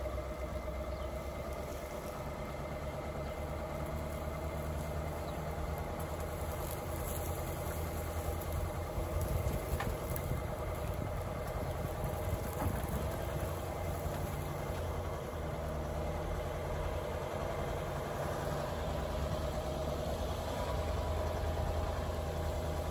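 A farm vehicle's engine idles and rumbles steadily during a slow drive around a farm in spring, a continuous low mechanical drone with faint vibration and no talking.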